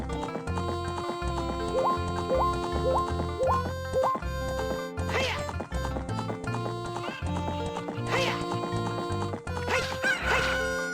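Chickens cluck inside the video game The Legend of Zelda: Ocarina of Time, with short clucking calls and game sounds over continuous looping background music, including horse neighs and hoof clip-clops.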